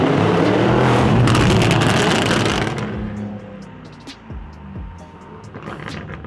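A Lamborghini Urus with Keyvany carbon bodywork and a loud tuned exhaust roars hard under acceleration close by, then eases into a lower rumble with short bursts and crackles as the revs drop.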